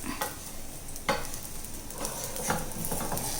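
Maida snack cooking in ghee in a pan is stirred, a steady frying sizzle broken by a few sharp scrapes of the spoon against the pan.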